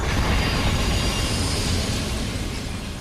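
A high-speed train derailing at 125 mph makes a loud, dense rumble of rolling stock with squealing wheels. The roar is continuous for three seconds and fades slightly toward the end, with no voices.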